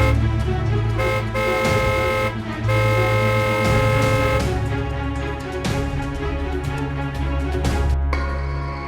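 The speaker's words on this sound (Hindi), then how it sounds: "कौन है ये जो तब से पागलों की तरह हॉर्न बजाया जा रहा है?" A car horn honks insistently outside a house, sounding in repeated blasts of varying length close by, with a steady engine rumble underneath and no talking.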